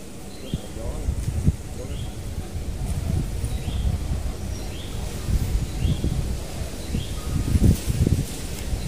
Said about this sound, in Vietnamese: Đêm nay gió cũng khá là mạnh á.